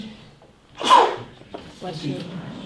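A single sharp sneeze bursts out near the mic during a village council meeting, followed by murmured voices in the room.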